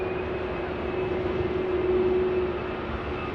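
An EasyJet airliner departs Manchester Airport, a steady, distant jet roar with a sustained engine whine, constant and unbroken throughout.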